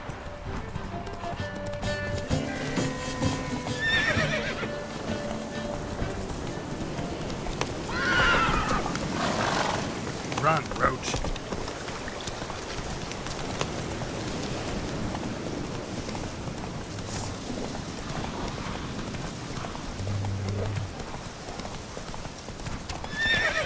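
A horse gallops with steady clip-clop hoofbeats and neighs in The Witcher video game, the running continuous and close throughout with whinnies breaking through, over a constant background wash.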